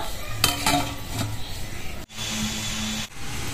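Fresh spinach dropped into a hot kadai, a sharp clatter of metal followed by a steady hiss and sizzle that runs on, then dips briefly and returns, close with no voices.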